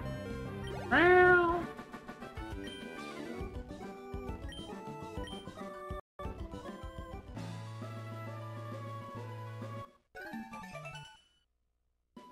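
A cat gives one loud meow near the start, set against busy game music and sound effects that carry on until the sound cuts out near the end.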